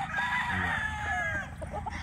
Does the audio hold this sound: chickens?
yes